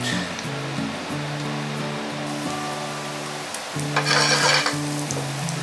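Chopped garlic and chili pepper sizzling in a little olive oil over a high gas flame, a steady hiss with stirring scrapes, louder crackling near the end, and no talking.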